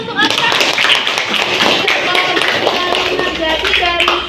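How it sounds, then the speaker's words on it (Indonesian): Children in a classroom clap for a student, a loud, close burst of many hands clapping steadily for several seconds, with a few young voices mixed in. "Tepuk tangan untuk Alfred."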